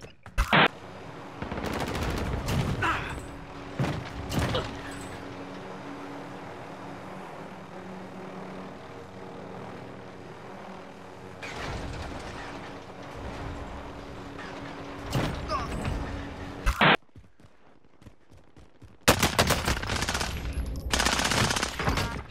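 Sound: gunfire in the video game Call of Duty Warzone

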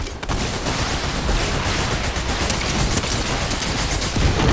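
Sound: gunfire while shooting at enemies in a video game

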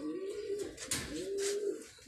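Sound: pigeon cooing

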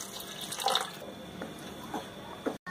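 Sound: pouring water into spicy chicken gravy

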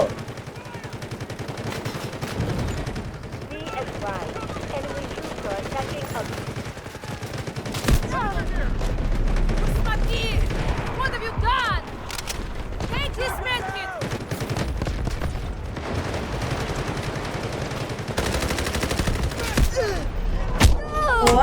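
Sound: gunfire in a video game shootout

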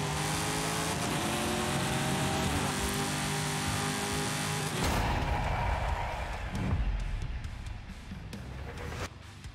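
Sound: idling car engines in Forza Horizon 5 video game

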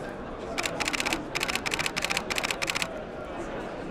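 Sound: Canon EOS 7D camera shooting high-speed burst

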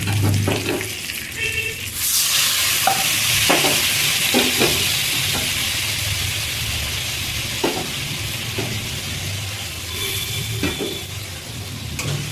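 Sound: stirring spice paste in a pan for fish curry

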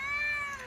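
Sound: cat meowing

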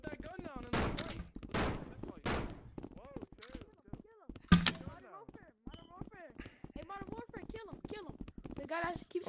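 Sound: gunfire in a video game

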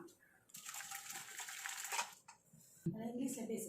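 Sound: draining boiled vegetables through a strainer

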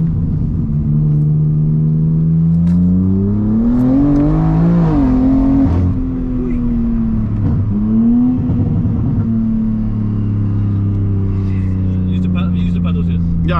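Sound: BMW M3 car accelerating through gear changes

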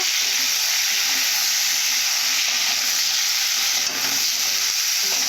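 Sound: sautéing rohu fish curry vegetables: onion, potato, drumsticks

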